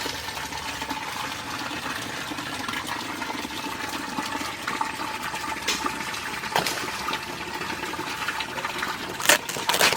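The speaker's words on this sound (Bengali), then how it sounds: "তারপর তো আমি মাছ কটা ধুয়ে নিই।" Hilsa fish being rinsed in water for a village-style recipe: a steady, close wash of splashing and trickling that runs unbroken, with a few sharper splashes near the end.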